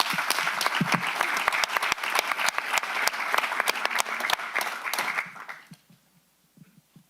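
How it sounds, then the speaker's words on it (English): A county supervisors' meeting audience gives sustained applause for local first responders, dense clapping that carries for several seconds before dying away into quiet room noise. "let's give them another round of applause to our first responders here"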